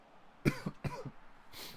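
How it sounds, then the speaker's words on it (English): A man coughs about three times in short, close bursts while playing FIFA 22, with quiet pauses between each cough. "I have a cough, guys."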